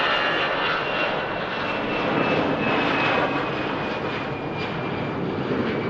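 EasyJet airliner jet engines roaring steadily at Manchester Airport, a broad continuous rumble with a faint high whine, heard from a distance and holding at an even level throughout.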